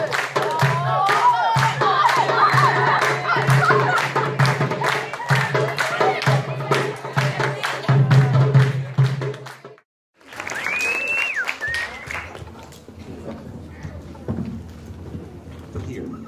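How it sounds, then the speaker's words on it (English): Audience applause and cheering from a crowd at a school International Day music event, dense clapping sustained loudly for about ten seconds, then a brief gap and quieter crowd noise with voices. "Give them another round of applause."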